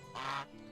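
A goose in the Medieval Dynasty video game squawks once, a short, fairly loud honking quack lasting about a third of a second over a quiet background.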